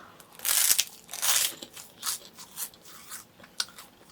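Air-puffed crisps crunched in a series of crisp bursts, loudest in the first second and a half, then lighter, softer bites and chews at an irregular rhythm, close and alone with no talk.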